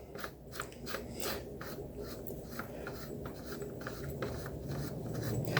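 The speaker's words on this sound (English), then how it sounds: "We're going to unscrew the tip." Barrel tip of a T4E HDX .68 paintball pump shotgun being unscrewed along its long thread, a steady run of close, faint dry scraping and rasping clicks with no talk.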